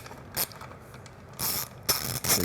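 Ratchet wrench with a 12mm socket loosening a bolt while fitting turn signals on a Triumph Bonneville T100: a few short bursts of close, crisp mechanical clicking, separated by quiet pauses.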